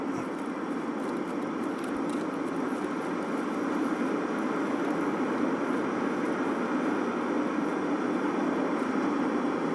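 An airplane in the video game Escape From Tarkov roars overhead as a steady, loud, broad rumbling drone that continues unbroken throughout.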